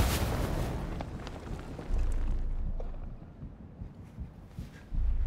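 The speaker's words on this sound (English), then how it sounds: "We hear constant bombings and gunfire." Film sound effects from Dunkirk: deep, rumbling booms roll on continuously, with heavy low-end bombing blasts swelling at intervals and faint crackling gunshots scattered through the din.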